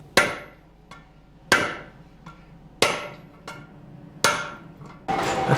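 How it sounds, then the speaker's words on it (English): A smith hammers an iron hoop onto an artillery barrel: four or five heavy metallic blows land about a second and a half apart, each ringing out and decaying, with no voices. "Too much heat and hammering and the hoop stretches."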